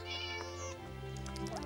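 A cat meows loudly and insistently, a drawn-out cry followed by a second wavering one, close by with no talking.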